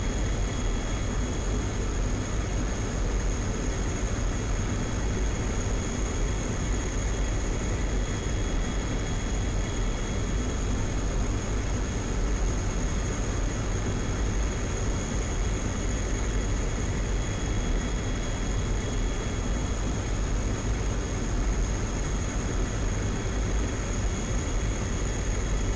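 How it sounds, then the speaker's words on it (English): Steady jet engine roar from a MiG-21 in the DCS World flight simulator, a constant broadband drone with a high whine, unbroken and alone for the whole stretch. "The MiG-21's engines"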